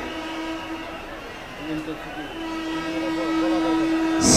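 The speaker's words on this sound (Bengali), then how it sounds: "সাবধানে থাকবেন, ট্রেন আসতেছে।" A train rumbles past as a long steady horn sounds over it, rising toward the end, with crowd noise and voices around.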